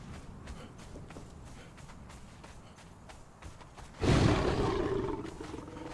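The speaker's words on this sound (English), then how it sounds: "Roar!" A creature in a video game lets out a loud, sudden roar about two-thirds of the way through, rising out of quieter game ambience with soft footstep-like taps and continuing as a broad rumbling swell to the end.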